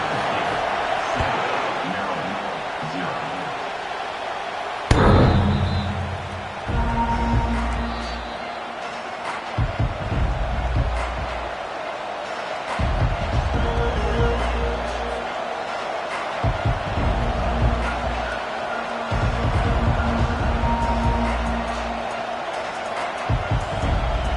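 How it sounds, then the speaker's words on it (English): A stadium crowd roars steadily during a college football game between Ohio State and an SEC opponent, loud and continuous with surges, while an announcer talks over it. "This crowd trying to make life miserable for this offense."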